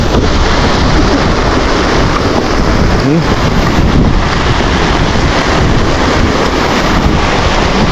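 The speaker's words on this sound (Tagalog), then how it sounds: "ang lalaki ng alon, ang lalakas ng ampas ng alon" Big waves crash and churn at Baseco, a loud, continuous roar of surf battered by heavy wind buffeting on the microphone, with a brief voice heard.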